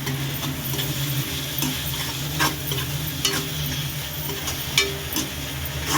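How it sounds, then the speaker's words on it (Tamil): Fenugreek leaves sauté in a hot pan for a paneer gravy, giving a steady soft sizzle broken by a few sharp scrapes and clinks of a stirring spoon, close and moderately quiet. "ஒரு மூணு நாலு நிமிஷம் நல்லா வதக்கி விட்டுருங்க"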